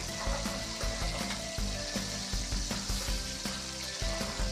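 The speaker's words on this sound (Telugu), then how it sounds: "ఇప్పుడు మూత పెట్టి పచ్చిమిరపకాయల్ని నూనెలో కాసేపు మగ్గనిద్దాం" Green chillies frying in oil in a covered pan, giving a steady, close crackling sizzle with dense bursts of popping throughout, no voices.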